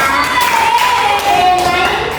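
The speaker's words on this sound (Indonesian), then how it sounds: "Tepuk tangan untuk Indah." A classroom of students claps briefly for a classmate, a short burst of brisk, close applause lasting a couple of seconds.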